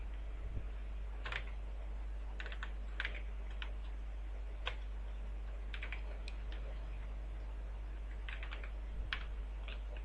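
Keys clatter on a computer keyboard as a name is entered into an online Indian passport application form, with sparse, irregular clicks in small bursts over a steady low hum.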